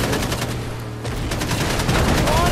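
Video game gunfire rattles in fast, dense automatic bursts that carry on continuously and loudly, close by, with no pause in the shooting.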